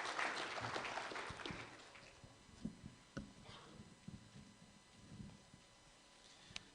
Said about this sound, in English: For a job well done, he deserves a round of applause.